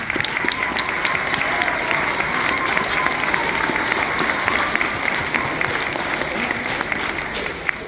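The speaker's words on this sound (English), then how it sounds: "how about another round of applause for the choir?" A school audience at an elementary school Veterans Day assembly claps warmly for the choir, a dense, even wash of applause that holds steady throughout with faint murmurs underneath.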